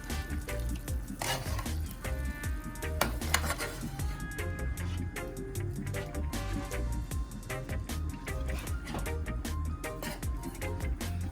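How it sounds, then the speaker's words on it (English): A spoon stirs escovitch sauce in a pot on the stove, a continuous close scraping and sloshing under a steady sizzle that runs for about eleven seconds without speech. "So now you stir again"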